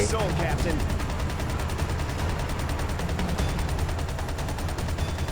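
Rapid steady gunfire and heavy explosive thuds in Ghost Recon Advanced Warfighter 2 on PS3, a continuous rattling barrage with booming tank shell impacts underneath, loud and sustained throughout.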